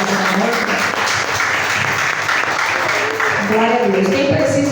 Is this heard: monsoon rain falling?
no